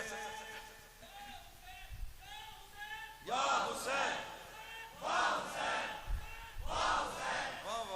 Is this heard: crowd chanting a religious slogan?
yes